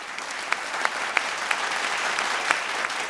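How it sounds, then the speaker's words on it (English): Audience at a televised vocal competition show applauds steadily, a continuous wash of clapping with a few sharper individual claps standing out, moderately loud and without speech. "A massive round of applause, please, for the sponsors for the Battle of Two Seasons 3 and 4."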